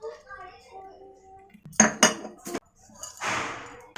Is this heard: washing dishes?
yes